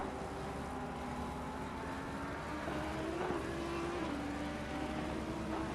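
Porsche and Ferrari GT3 race cars in a racing video game climb a hill with a steady, continuous engine drone whose pitch slowly rises and dips, heard alone at a moderate level.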